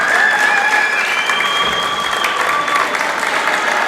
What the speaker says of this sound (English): Absolute crowd are going crazy.